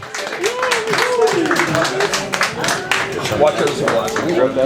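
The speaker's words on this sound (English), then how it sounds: "Can we get a big round of applause for Daphne, Juliet, Ellis, everybody?" Audience at an open mic night claps and cheers in a dense, steady burst of applause, with voices and whoops mixed throughout.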